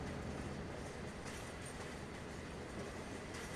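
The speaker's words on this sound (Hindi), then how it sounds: "वैसे एक ट्रेन क्रॉस कर रही वैप 4 लोगों ने लगा" A train hauled by a WAP-4 locomotive passing in the MSTS train simulator game, a dense, steady rumble of rolling wheels on rails at low volume, with no voices.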